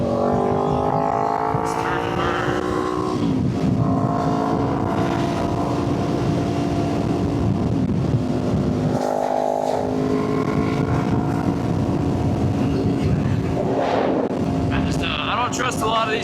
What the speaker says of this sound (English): I know I'm on a motorcycle that's loud